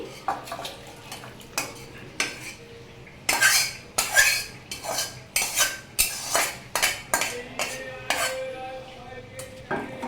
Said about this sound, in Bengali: এই যে বাটিটাকে তুলে নিচ্ছি।